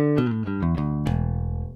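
Bass guitar run through a JHS Clover preamp pedal, a short ascending run of plucked notes ending on a sustained, ringing low note that slowly fades, played alone.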